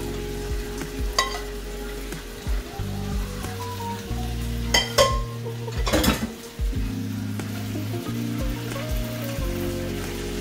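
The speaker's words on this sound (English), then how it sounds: "So we're going to mix everything around now, you know, so we're tying everybody, season everybody." Ackee and saltfish being stirred and sizzling in a cooking pot for a Jamaican dish: steady frying hiss with repeated scraping and clinking of the spoon against the pot, close and continuous.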